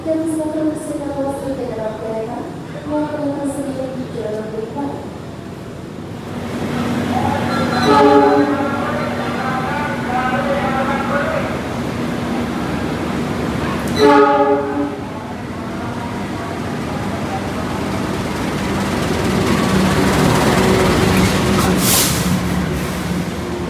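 The Malabar passenger train from Malang to Bandung rumbles past loudly with sustained horn blasts, the clatter swelling and fading as it moves along the track.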